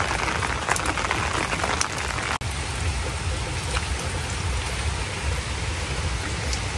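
Steady rain falls on a wet afternoon, a dense continuous hiss of drops striking surfaces close by, with scattered louder patters and no voices.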